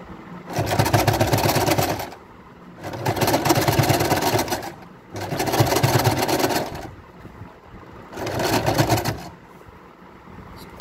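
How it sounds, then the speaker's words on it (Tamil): A sewing machine stitches elastic onto a fitted bedspread in four loud, even bursts of rapid mechanical whirring, each a second or two long, with short quiet pauses between. "ஸ்டிச் போட்டு க்ளோஸ் பண்ணிடலாம்"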